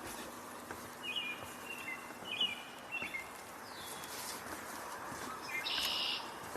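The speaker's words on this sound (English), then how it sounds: "yellow warbler" A yellow warbler sings short bright phrases at moderate distance, several brief bursts spread across the stretch with a louder one near the end, over a steady outdoor hiss.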